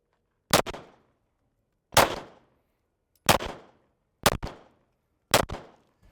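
Five distinct shots from a Glock pistol fitted with a red dot sight, fired at a steady unhurried pace on a range, each crack loud and close with a short decaying tail and silence between.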